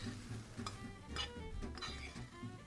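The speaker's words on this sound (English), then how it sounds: "I'm simply tossing everything together here and stir it real quick." Food being tossed and stirred in a pan, soft sizzling under a low hum with scattered light scrapes and clinks of a utensil, fairly quiet and close, no voices.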